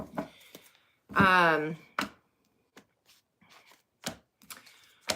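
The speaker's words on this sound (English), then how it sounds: "y'all are watching me shuffle. I am shuffling." Tarot cards being shuffled by hand give a series of short sharp riffling clicks and taps, spaced irregularly and fairly close, with a brief burst of voice in between.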